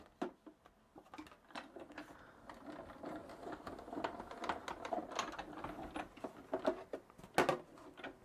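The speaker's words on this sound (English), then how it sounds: "run this through my die cutting machine using the normal sandwich for embossing" A die cutting machine runs a card through an embossing sandwich, making a close, uneven mechanical whir with rattling clicks and a sharper knock near the end.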